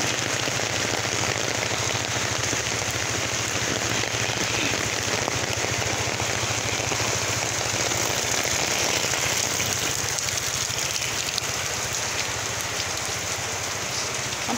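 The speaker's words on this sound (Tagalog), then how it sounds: "Ang lakas ng ulan." Heavy rain pours down steadily, a dense, loud hiss of drops hitting surfaces that holds unbroken throughout with no voices.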